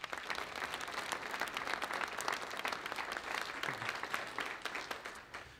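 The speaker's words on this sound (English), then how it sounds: "So I want to give one big round of applause for all the kids that are here tonight." Warm applause from an audience at a school learning-community ceremony honoring students, with many hands clapping steadily and densely at moderate distance for several seconds, with no voices over it.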